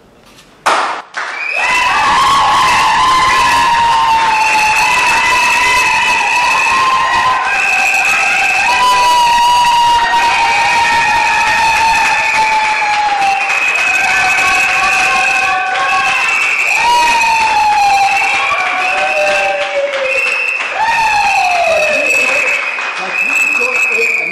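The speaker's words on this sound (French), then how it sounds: "pour qu'ils soient applaudis par tout le monde" At a civil wedding, guests clap and cheer for the couple in a loud, continuous roar of crowd noise, with high ululating and singing voices riding on top for over twenty seconds.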